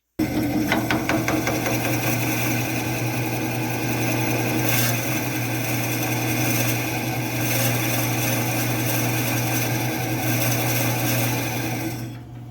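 A 2.5-inch sawtooth bit bores six inches into ash end grain, giving a continuous grinding drone with a steady low motor hum and scraping texture, close and unbroken for the whole stretch before stopping near the end.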